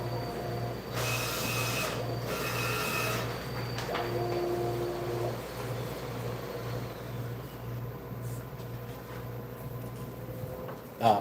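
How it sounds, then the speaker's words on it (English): Printer running with a steady rhythmic mechanical chug and whirring motor tones, plus a couple of brief louder bursts early on as the paper is fed and cut, continuous and close. "I have this printer."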